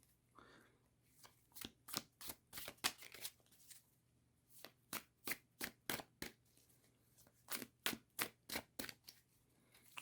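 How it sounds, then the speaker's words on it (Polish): Tarot cards being shuffled close up: a long run of crisp, rhythmic riffling bursts in three groups, separated by short pauses. "Potasujemy dobrze karty."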